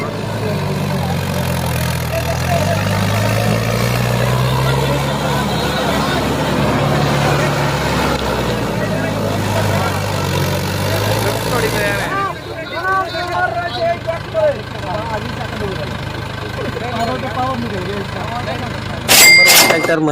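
A Mahindra H1 series tractor engine runs while submerged underwater, giving a low, steady idling drone for about twelve seconds before it drops away. People talk over it throughout, and a few sharp clanks sound near the end.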